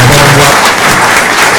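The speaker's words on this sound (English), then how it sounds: "One more round of applause, please, for them this evening." Loud, close applause from an audience at a candidates' forum in Lake Lure, a brief burst of dense clapping filling the room.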